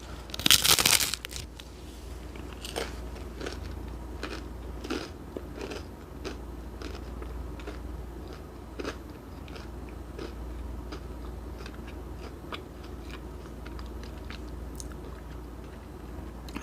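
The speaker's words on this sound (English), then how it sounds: "Hear this crunch." Crunchy pizza crust with San Marzano tomatoes and fresh basil being bitten and chewed up close, one loud crackling bite followed by a long run of irregular crisp crunches and chewing noises.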